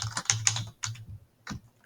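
Quick keystrokes on a computer keyboard while entering a value into an Excel spreadsheet, a short burst of close, crisp taps followed by a pause and a couple more clicks.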